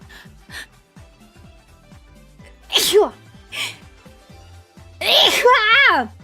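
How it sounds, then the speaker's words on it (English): A person sneezes twice, first with a sharp burst and then a louder, drawn-out sneeze with a voiced trailing tone, close and loud over quiet background clicks. "Sorry, that was a sneeze."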